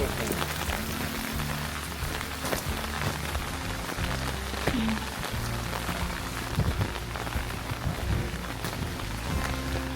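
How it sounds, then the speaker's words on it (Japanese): Autumn rain patters steadily on surfaces in the medieval French village of Najac, close and continuous, with soft background music underneath. "雨止まないけど。"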